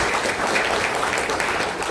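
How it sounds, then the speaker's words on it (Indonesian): Students and staff at a work-culture workshop at SMK N 1 Susukan clap for three students, a steady dense patter of hands filling the room without pause. "tepuk tangan buat ketiga"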